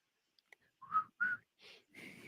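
A man tries and fails to whistle, producing a few breathy, wavering tones and airy puffs in short bursts, close and fairly quiet with no talking.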